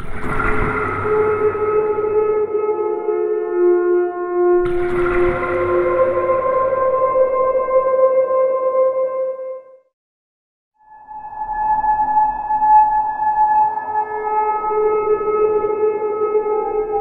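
Water Piano virtual instrument by Impact Soundworks with macro tuning changed, sustained watery tones with eerie pitch glides like a drawn-out siren, loud and continuous, broken by a short silence before a new tone rises.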